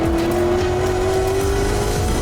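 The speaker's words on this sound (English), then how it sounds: "these are proper race cars, proper racing drivers, racing at Le Mans" Race cars at Le Mans roar past loudly and up close, a continuous engine note with a shifting pitch over dense mechanical and crowd noise, with no voices.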